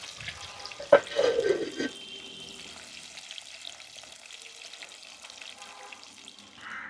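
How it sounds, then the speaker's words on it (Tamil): Fish for Jaffna-style fried fish curry frying in a covered pan produces a soft, continuous sizzle, opened by a brief clatter and bubbling burst near the start that settles into a quiet, steady hiss. "இப்போ இதை ஒரு கொஞ்சத்துக்கு மூடி வச்சுருவோம் மூடி வச்சு பொறிக்க விடுவோம்"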